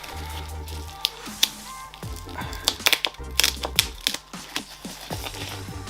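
Sticky tape peeled off a new Xbox Series X console during unboxing, a run of crinkly tearing and crackling bursts with soft plastic rustles and thumps, close and fairly quiet.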